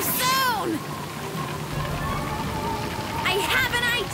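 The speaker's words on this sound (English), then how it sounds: "It'll probably just be a light drizzle." Light cartoon drizzle patters steadily under bright whooshing and chirpy sound effects, with voices talking over the soft continuous rain hiss.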